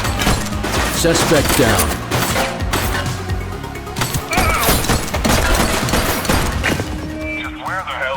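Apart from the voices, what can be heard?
gunfire in a shootout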